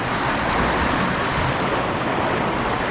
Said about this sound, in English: Waves are scaring me.